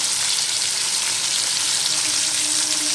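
Cubed onion hits hot oil in a pan and sizzles steadily, a loud, continuous frying hiss that holds even throughout with no talk.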